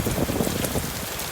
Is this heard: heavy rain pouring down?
yes